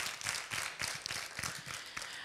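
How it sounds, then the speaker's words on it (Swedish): Audience applause at the Webbstjärnan 2016 award ceremony, a dense steady patter of many hands clapping in a hall, moderately faint and continuous, with no voices over it. "och där kommer applåden igen"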